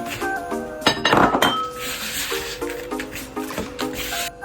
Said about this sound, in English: I'm going to add my sugar, and I'm going to stir together.